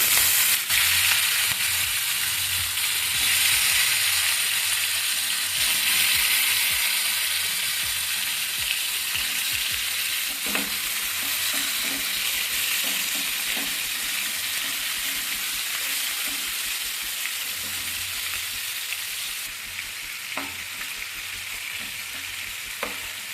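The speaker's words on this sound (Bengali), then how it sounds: "তেল আমার গরম হয়ে গেছে আমি একে একে আমি চিকেনগুলো ভেজে নেবো" Chicken pieces sizzling in hot oil for a Bengali spinach chicken dish, a steady loud crackle of frying with occasional stirring clatter and no talking.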